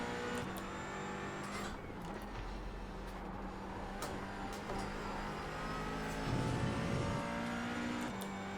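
Race cars lapping Lime Rock Park in the iRacing sim during an IMSA Pilot Challenge event with TCR cars, a steady close engine drone throughout with a louder rise in revs near the end.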